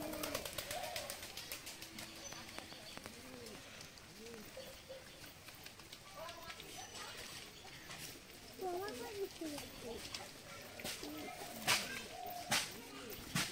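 Pigeons cooing and fluttering inside a home loft, soft repeated coos at moderate distance mixed with rustling, while a person talks over them throughout.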